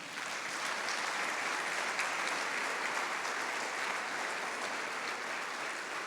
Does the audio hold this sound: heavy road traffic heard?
no